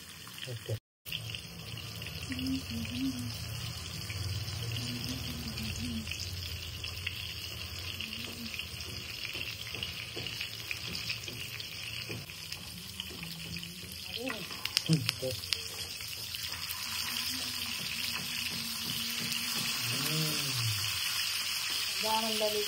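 Bagda fish frying on a tawa over a low gas flame gives a steady, moderate sizzle that runs unbroken for the whole stretch, with faint voice-like sounds now and then underneath.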